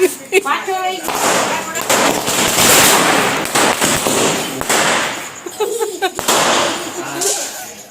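Dev Diwali firecrackers burst in loud, rapid crackling volleys nearby, a dense string of pops and bangs with people talking and shouting around them.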